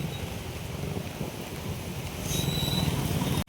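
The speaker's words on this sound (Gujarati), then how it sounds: "પંદર મિનિટનો વિરામ લઈને પાછો વળગી જાય છે ભાઈ ફૂલ વરસાદ" Heavy rain pours down in Porbandar, a steady broadband hiss holding evenly throughout and swelling louder toward the end before a brief cut.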